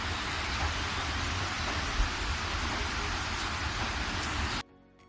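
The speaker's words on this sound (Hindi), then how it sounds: "एक बार गांव में भारी बरसात हुई।" Heavy rain pours in a steady, dense wash for about four and a half seconds, loud and unbroken with no voices, then cuts off abruptly into near silence.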